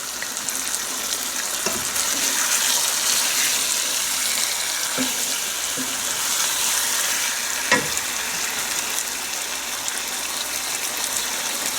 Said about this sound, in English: So that will help the onions caramelize.